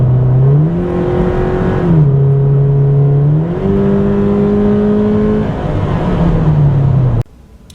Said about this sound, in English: It's not that serious to have a bit of noise in the cabin.